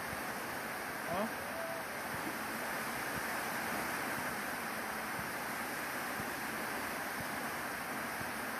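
Strong waves churn and wash steadily as floodwater pours into a house, a continuous close rushing roar with faint knocks and a brief voice near the start.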